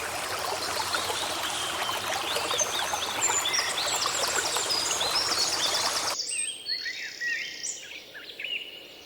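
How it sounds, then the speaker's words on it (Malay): Recorded forest ambience: a river rushes and trickles steadily while birds chirp and call above it, then the water cuts out abruptly, leaving only scattered birdsong against near silence. "si kancil memainkan semula bunyi burung, sungai dan daun yang berdesir"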